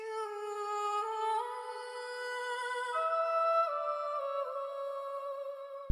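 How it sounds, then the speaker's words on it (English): Vocal chops and phrases from the Vocalize 3 Gravity Pack, a smooth sung melodic line gliding between sustained notes, bright and breathy, playing alone and ending with a sudden stop. "chose just a simple vocal phrase pack and laid down these notes, and the vocal chops and phrases sound like this."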